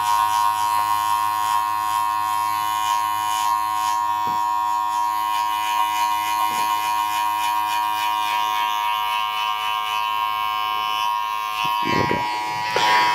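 Electric hair clippers with a 1.5 guard and open lever run continuously through a short men's taper haircut, a steady close buzz that holds for the whole stretch with brief dips near the end.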